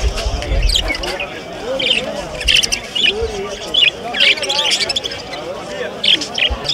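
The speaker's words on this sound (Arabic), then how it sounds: "طيور بنغالي" Bengalese finches chirp in bursts of short, bright tweets at a busy bird market in Diyala, with crowd chatter and people talking close by.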